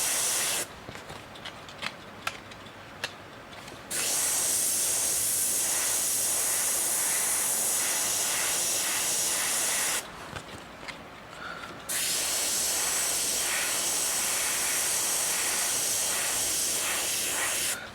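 Spray paint hisses in two long, loud, steady bursts over a helmet logo during a background painting session, separated by quieter gaps with faint handling noise.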